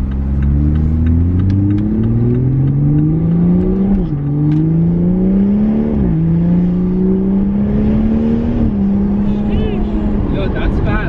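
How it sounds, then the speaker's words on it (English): A BMW F30 accelerates hard through several gears, its loud engine note climbing repeatedly and dropping at each upshift with quick blurps in between. "I just love those like those upshift blurps."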